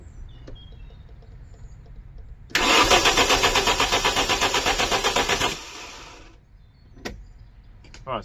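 Twin cam AFH engine swapped into a Mk2 VW Polo cranks with a rapid rhythmic starter chatter for about three seconds, loud and close, then falls away without catching into a steady idle; faint clicks follow.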